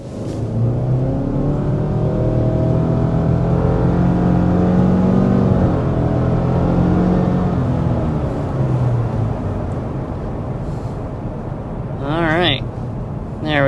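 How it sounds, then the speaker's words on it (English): A 2025 Subaru Crosstrek accelerates hard, its engine note climbing steadily and loud for several seconds before easing off, with a person speaking briefly at the end. "we want to go ahead and start with a hard acceleration"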